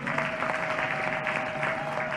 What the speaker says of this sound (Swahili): naomba kwa pamoja tuwapigie makofi.